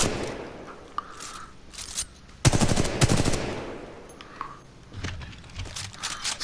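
A Spitfire light machine gun fires in Titanfall 2, a tight, rapid automatic burst about a second long, close and loud, with quieter single shots and scraping movement around it.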